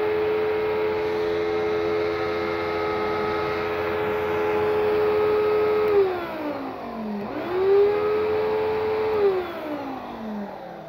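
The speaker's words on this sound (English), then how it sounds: "let's hear a brand new, newly refurbished Hoover Wind Tunnel Wide Path Plus" A refurbished Hoover Wind Tunnel Wide Path Plus upright vacuum cleaner runs steadily with a loud, constant motor whine, then its pitch dips and recovers twice near the end as the load changes, with no voices.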